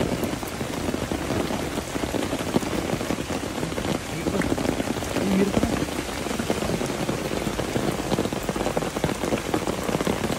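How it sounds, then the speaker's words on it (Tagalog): Steady heavy rain pattering on a surface, a dense continuous hiss of drops that fills the whole stretch without letting up. "Umuulan na."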